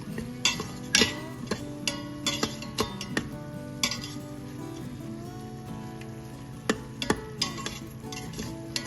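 Tomatoes and salt sautéed in a kadai for aloo rasedar, heard as a spoon scraping and clinking against the pan in irregular taps over a soft low background, with no talk.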